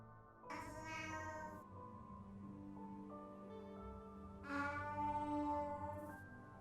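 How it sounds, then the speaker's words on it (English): Regice's cry from the Pixelmon mod for Minecraft: a drawn-out, tonal cat-like meow with a ringing reverb tail, heard twice with a bright wavering pitch, alone and fairly quiet. "Regice's cry sounds like a cat with like some reverb on it or something."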